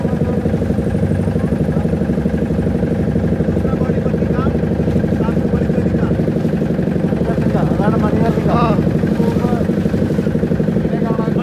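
A boat motor drones steadily on the river at Varanasi, where double-decker boats carry passengers, a loud, even mid-pitched rumble with faint chirps above it.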